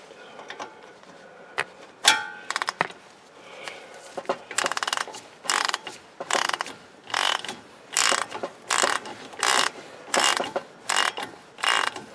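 A ratchet tightening brake caliper bolts on a 2012 Porsche 911 Carrera (997.2) during a brake and rotor change, clicking in about a dozen steady bursts of rapid pawl ticks separated by short pauses, close and clear.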